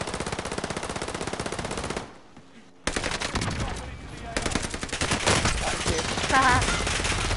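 Sustained automatic gunfire in a shooter video game on Rebirth, loud, rapid and continuous, with a short pause before heavy firing resumes and a brief spoken phrase.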